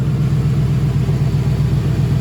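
A 2012 Ford Mustang GT idles during an oil change, giving a steady, low, even rumble heard close up with no voices over it.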